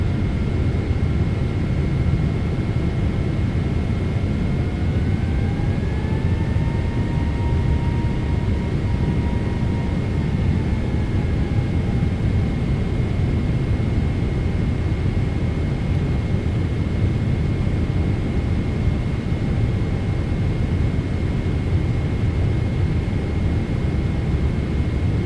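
A PMDG 777-200 in American Airlines livery roars steadily with jet thrust in a flight simulator game, a dense continuous engine rumble with a faint rising whine gliding up and then settling, loud and unbroken with no talking.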